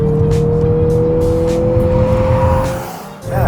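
A 2023 Mazda CX-50 SUV driven into a corner on throttle, with a loud, steady engine drone and tire and road noise heard from inside the cabin, then a brief dip near the end.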